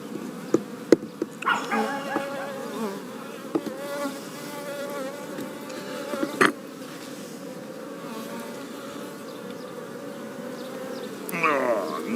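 Honey bees buzzing around an open top bar hive during an inspection, a continuous close hum with individual bees passing near, plus occasional sharp knocks and handling sounds.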